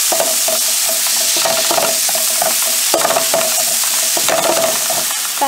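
Chopped tomatoes sautéing in a pan for a Kerala vegetarian lunch, a loud continuous sizzle punctuated by rhythmic spatula scrapes and taps against the pan, close up with no speech.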